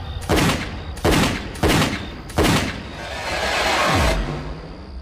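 Four loud gunshots ring out about a second apart, each with a sharp crack and trailing echo, followed by a lingering rumble.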